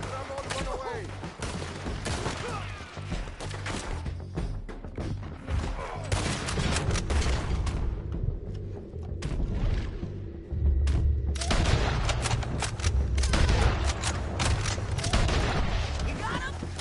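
Artillery and rifle fire in Red Dead Redemption 2 rumble in heavy, dense bursts with deep booms, near and loud, filling the scene while voices shout over the battle.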